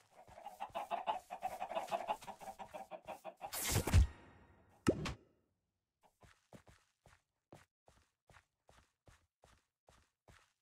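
A chicken in the video game Minecraft clucks in a rapid run of short calls, followed by a few sharp bursts and then a long, evenly spaced series of soft, quiet ticks like footsteps.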